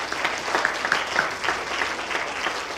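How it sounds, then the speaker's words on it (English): An audience at a children's science explosion presentation gives a quick round of applause, bright scattered clapping with a few louder claps, steady throughout and without talking. "if we could give them a quick round of applause as well"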